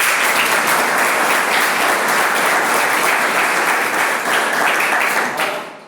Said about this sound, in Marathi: सगळ्या युवकांसाठी एकदा जोरदार टाळ्या वाजवा